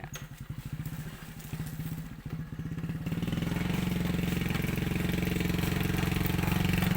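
A motorcycle engine rides down a slope through dense jungle, its low, steady throb growing fuller and louder after a few seconds as it revs and holds. The engine is close and continuous, with no talk.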